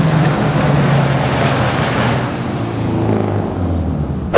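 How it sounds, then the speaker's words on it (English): A tuned Subaru WRX STI with an upgraded turbo and an exhaust tune that pops, pulling away and droning steadily with a low, rumbling engine note that holds loud and then fades slightly as the car leaves. "The STI is leaving."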